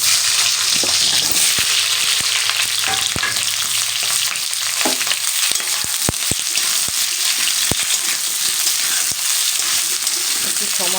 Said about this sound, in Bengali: এই তেলের মধ্যে কিন্তু আমি ভেজে নেব মোটা মোটা করে যে পেঁয়াজগুলো কেটে রেখেছি